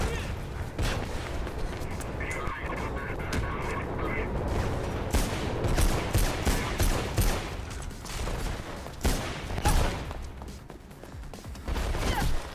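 Gunfire in the video game Mirror's Edge, with dense bursts of shots and rattling automatic fire over continuous game noise, some sharp cracks standing out near the end, while a player talks over it.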